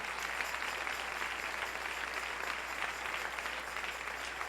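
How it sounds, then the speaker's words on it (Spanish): A church congregation applauds the King during a morning service, with a steady, even wash of many hands clapping at moderate distance over a low constant hum, and no clear voices on top. "Dele ese aplauso al Rey en esta preciosa y hermosa mañana"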